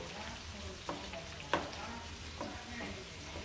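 Rockfish pieces with other ingredients frying in oil and butter in a tilted skillet, a continuous sizzle broken by a couple of brief clinks and spatters.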